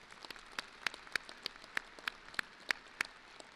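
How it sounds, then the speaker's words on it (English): A commencement audience applauds the university chancellor, sparse individual claps ringing out at a fairly regular rhythm over a quiet hall, sounding somewhat distant. "I'd ask that we all give him a round of applause"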